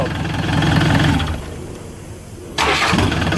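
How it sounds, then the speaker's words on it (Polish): A Fiat Ducato diesel engine, freshly rebuilt after about 500,000 km, runs loud and close as it cranks, dips, then catches and fires up abruptly with a harsh, rattling roar. "Te silniki są naprawdę dobre w odpalaniu."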